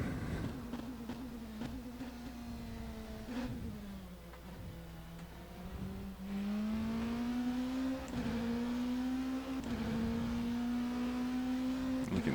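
An LMP2 prototype race car in the rFactor 2 racing sim holds a steady, buzzing engine drone that dips and climbs in pitch through shifts and acceleration, heard alone throughout.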